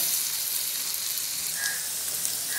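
Cut potatoes frying in mustard oil in a pan, giving a steady, even sizzle that holds close and moderately loud throughout, with no voices over it.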